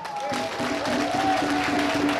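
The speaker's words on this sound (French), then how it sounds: "On peut s'applaudir pour ça." A crowd at a Mother's Day celebration in Côte d'Ivoire applauds steadily, with a loud, dense wash of clapping and a voice over it throughout.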